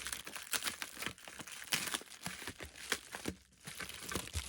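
A parcel package is torn open by hand, with close, uneven bursts of crinkling and ripping packaging material coming in quick clusters.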